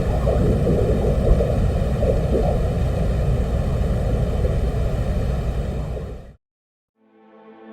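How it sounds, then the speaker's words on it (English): Recording from the surface of Venus captured by a 1982 Soviet landing probe: a loud, steady broadband roar like wind rush, which cuts off abruptly into silence before a faint tonal hum fades back in. "On March the 5th, 1982, the Soviet Union landed a probe on the surface of Venus, and it was equipped with microphones."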